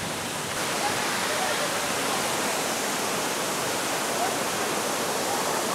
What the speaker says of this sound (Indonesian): kalian yang kesini bawa kameranya hati-hati ya, karena airnya jepret dari sana